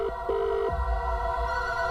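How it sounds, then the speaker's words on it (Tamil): A telephone rings in a Tamil television drama scene: a steady electronic ring tone sounds in two short bursts, then stops and leaves a low background hum, with no talking. "ரிங் போகுது, எடுக்கலையே."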